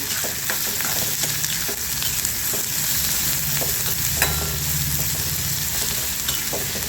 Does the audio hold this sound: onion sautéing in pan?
yes